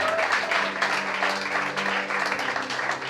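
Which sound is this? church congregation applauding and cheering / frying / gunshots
church congregation applauding and cheering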